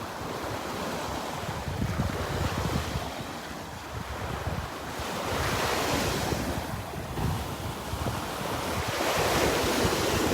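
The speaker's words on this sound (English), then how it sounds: "The waves don't really seem to faze them much." Ocean waves wash onto a beach in North Naples, Florida, in a broad continuous roar that swells and recedes in slow surges, with wind buffeting the microphone and no voices.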